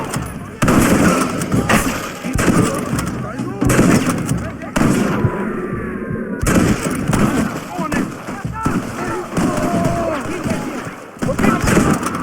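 Gunfire in Red Dead Redemption, repeated loud shots and blasts in a sustained firefight, with shouting voices mixed in among the cracks.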